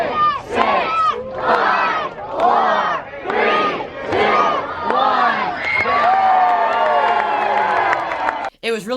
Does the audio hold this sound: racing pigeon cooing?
no